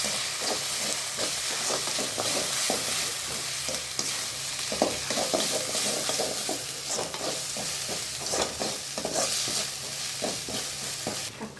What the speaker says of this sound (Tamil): இஞ்சி பூண்டு பேஸ்ட்டு நல்லா பச்சை வாசனை போகிற அளவுக்கு வதக்கிக்கணும்